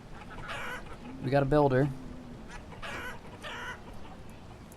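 Chickens in the colonial village game Banished cluck in short bursts, a few near calls rising over quiet ambience while someone talks over them at times.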